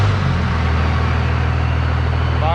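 A 1998 Cummins diesel truck engine, fully warmed up, runs right after starting with a loud, deep, steady rumble close by, and no one speaks.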